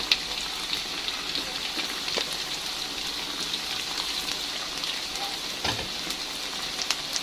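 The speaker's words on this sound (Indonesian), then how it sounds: "ini tempenya langsung saya goreng semuanya aja" Tempeh slices frying together in a fairly generous amount of hot oil, giving a steady close crackling sizzle with scattered pops.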